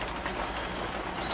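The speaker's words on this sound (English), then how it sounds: "It's raining today." Steady rain pours outside, a dense, even hiss of drops lasting the whole moment, moderately loud with no voices.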